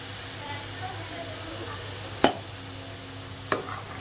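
Tomato puree sizzles in a pan of fried onions, a steady soft frying hiss with two sharp clinks of a utensil against the pan.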